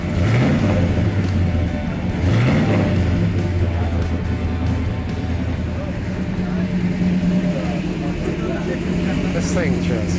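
A 1967 Hemi GTX convertible engine revs loud and close in repeated throttle blips, with a deep rumble held between them and a person talking over it.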